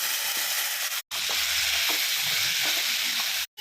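Mustard seeds, garlic, dry chillies and curry leaves frying in hot oil give a loud, steady, close sizzle with faint crackles, broken by two very brief cuts.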